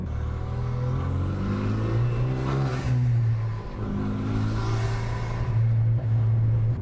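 A straight-piped Renault Megane RS 265 sports car engine revs hard and close, its loud droning roar rising and falling across several throttle blips with no talking.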